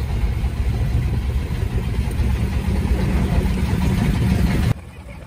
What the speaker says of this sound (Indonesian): kami akan menyeberangi Sungai Mahakam dengan menggunakan kapal feri kayu